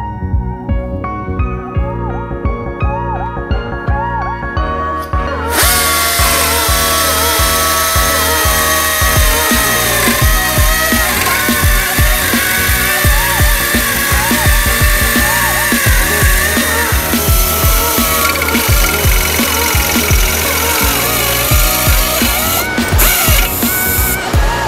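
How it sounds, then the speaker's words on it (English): A power nibbler chews through aluminum sheet for a Yamaha Banshee air box modification, making a loud, continuous rattling buzz that holds steady for about twenty seconds. "It's called a nibbler. And if you can see this, the tip here, this it literally just like eats away the aluminum."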